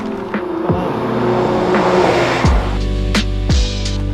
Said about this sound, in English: There's a bus.